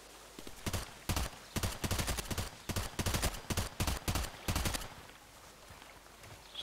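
Bursts of rapid rifle fire from an EBR marksman rifle in the Contract Wars shooter game, a string of sharp repeated shots over about four seconds, then quiet.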